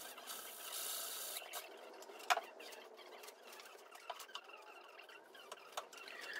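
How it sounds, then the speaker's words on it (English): A sanding block rubs over wood to clean off dried glue drips, producing faint, quiet scraping strokes and small taps in an otherwise hushed room. "take a sanding block and clean it that way"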